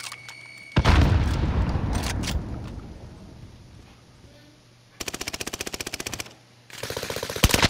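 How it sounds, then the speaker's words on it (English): In the Warzone video game, a loud grenade blast bursts out and rumbles away. Later come two rapid bursts of close automatic gunfire, with a short quiet pause between them. "Grenades flying."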